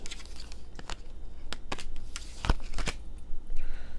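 A deck of tarot cards is shuffled up close, giving a quick series of crisp riffling flutters and sharp slaps of card on card, growing slightly louder toward the end.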